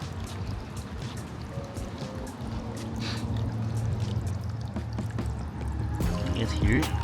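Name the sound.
water trickling and dripping down rocks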